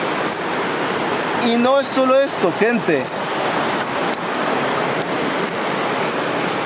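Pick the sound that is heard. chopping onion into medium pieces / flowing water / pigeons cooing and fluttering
flowing water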